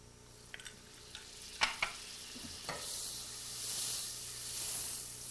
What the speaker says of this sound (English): You can hear probably the sizzling.